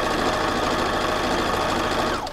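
Steady, close hum and rapid chatter of a sewing machine stitching around a leather applique pillow, running continuously before stopping abruptly at the end.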